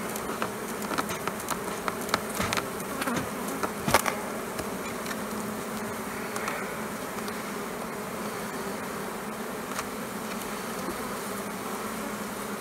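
Honeybees buzz densely around a hive in an outdoor apiary at the last check before wintering, a steady close swarm hum with individual bees zipping past the microphone, no voices.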